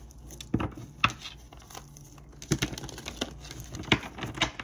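Tarot cards are shuffled by hand close to the mic, giving soft riffling and tapping bursts in irregular clusters against a quiet room, with no talking.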